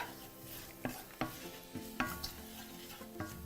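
A spatula stirs turmeric through a quietly sizzling pan, with a few distinct knocks and scrapes against the pan over a soft frying hiss, no talk.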